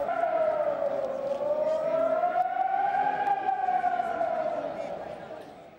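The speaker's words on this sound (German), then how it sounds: "Sirene za uzbunu neprestano su se čule više od sat vremena" An air raid alarm siren wails loudly and continuously over Kosovska Mitrovica, its tone slowly sagging and then rising again before easing off slightly at the end.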